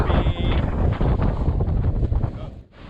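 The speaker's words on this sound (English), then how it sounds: "Wind still pumping." Strong wind at sea at sunrise roars steadily across the microphone from a boat, a loud, continuous buffeting rush with the wash of water beneath it and no voices.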